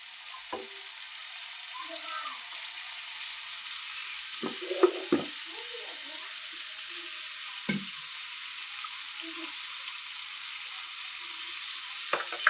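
Ridge gourd frying in hot oil for dry-style dodka, a steady soft sizzle with a few sharper spattering pops and scrapes standing out.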